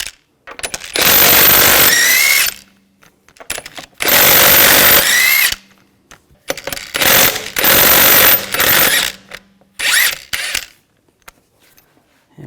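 Impact-style power tool on a 19mm socket spinning lug bolts out of a rear wheel on a 2000-2006 BMW X5, four loud close bursts of whirring and rattling about a second or two each, separated by brief quiet gaps.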